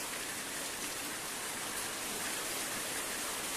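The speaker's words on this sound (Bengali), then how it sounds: "এই যে বৃষ্টি পড়ছে" Heavy rain pouring down in a village, a dense, even hiss of countless drops falling steadily throughout, loud and close with no pauses.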